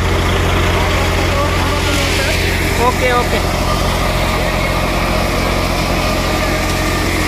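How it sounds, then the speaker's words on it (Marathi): A Swaraj tractor drives a Rajasthani soybean threshing machine in a farm field, giving a loud, steady mechanical drone and rattling hum throughout, with brief voices talking over it. "स्वराज ट्रॅक्टर आहे बघा मित्रांनो, पाहू शकता तुम्ही।"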